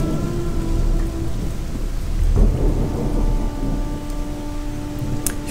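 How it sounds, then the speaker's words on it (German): Steady rain falls in the video game Gothic 2 while a deep thunder rumble swells near the middle. A faint game music tone sits underneath, and no one speaks. "Oh, ich dachte schon, draußen regnet es, dabei ist es hier im Spiel."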